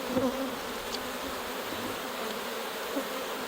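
Honey bees buzz steadily at an open hive during an inspection, a dense, even drone that holds at moderate volume from start to finish without a break.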